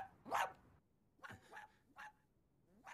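A dog barks in a tense anime scene, four sharp barks spaced irregularly over a few seconds, fairly faint and distant-sounding, with no talk over them.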